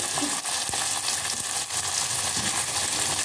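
Green turkey berries (sundakkai) sauté in a hot pan with a steady, close sizzle and frying crackle, broken by a few clicks and scrapes of stirring and no voices.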